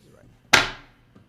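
One sharp clattering knock, a guitar capo dropping onto a surface, fades quickly, followed by a faint tap.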